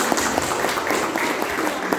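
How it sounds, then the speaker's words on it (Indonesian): A church congregation claps at a Christmas sermon, a dense, steady wash of many hands held at an even level for the whole stretch, with no voice on top. "Boleh kita berikan tepuk tangan kemuliaan bagi Tuhan."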